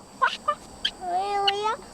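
A small frog from the terraced fields of Damaopu, an endangered species, gives several short chirps followed by a longer, wavering tonal call. The sound is close and clear over quiet background.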